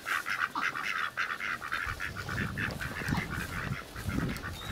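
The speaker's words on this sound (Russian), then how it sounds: "Здесь вот гусятки такие красавицы." Geese and ducks honk and quack in a yard in the village of Korchino, with repeated overlapping calls close by and a low, busy cackling that continues throughout.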